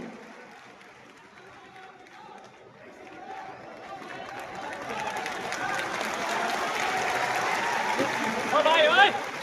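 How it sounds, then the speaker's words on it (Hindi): Seminar audience clapping to welcome guests, the applause swelling from faint scattered claps into a loud sustained round from a large crowd, with a voice speaking over the start. "एक बार जोरदार तालियों के साथ स्वागत करते रहिए हमारे सभी गणमान्य अतिथियों का।"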